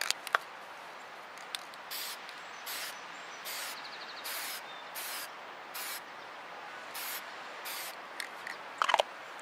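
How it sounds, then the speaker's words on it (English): Repeated short hisses of a can of sparkly spray paint, about a dozen bursts at a steady rhythm, close and fairly quiet with faint clicks between. "Now, which way are we gonna spray?"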